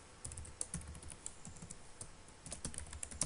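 Typing on a computer keyboard while entering PHP code, with a steady run of light, close key clicks and occasional sharper taps over about three seconds, no voices.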